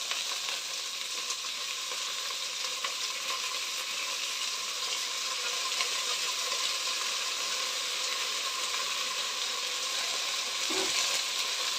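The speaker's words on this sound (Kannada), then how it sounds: "ಇಲ್ಲಿ ತೊಳೆದು ಇಟ್ಕೊಂಡಿರೋಂಥ ಹೆಸರು ಬೇಳೆನ ನಾನು ಹಾಕ್ತಾಯಿದ್ದೀನಿ" Washed moong dal sizzles in a hot pan with a loud, steady, close frying hiss that runs throughout, with faint stirring scrapes near the end.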